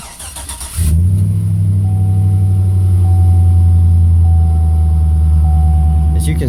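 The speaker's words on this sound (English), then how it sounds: "this truck has a very nice exhaust note" A 2005 Chevy Silverado truck engine cranks and starts, then settles into a loud, steady idle with a deep exhaust rumble close by, alone without talking.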